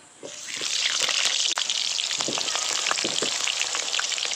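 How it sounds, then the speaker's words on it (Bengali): Steady loud sizzling of potatoes frying in hot mustard oil, a continuous crackling hiss with scattered pops and a brief dip midway. "তেল গরম হয়ে গেছে এবার কেটে রাখা আলু দিয়ে দেবো"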